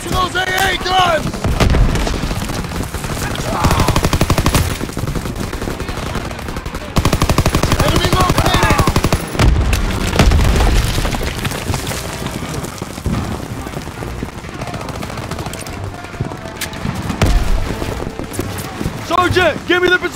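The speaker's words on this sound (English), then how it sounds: "Tossing out a grenade!" Grenade blasts and sustained machine-gun and rifle fire from the Call of Duty WWII campaign's final mission roar loudly and continuously, with booming explosions and shouted soldier voices over the battle.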